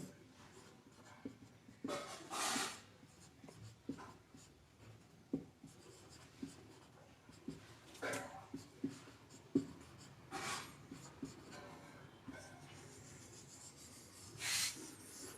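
Chalk or marker writing out a physics formula on a classroom board, a run of scratchy strokes and taps with brief pauses, fairly faint and with no talking.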